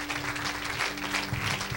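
A church congregation at a Thursday worship service applauding for Jesus, steady dense clapping across the room with a faint sustained musical tone underneath, moderately loud.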